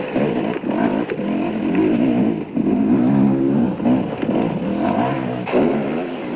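Off-road racing motorcycles climbing mountain tracks in the 1994 Roof of Africa rally, a loud, continuous engine drone with shifting revs close by.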